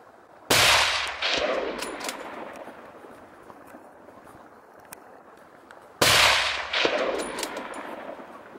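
Two loud, sharp gunshots ring out about five and a half seconds apart, each followed by a long, rolling echo that fades slowly, with no voices in between.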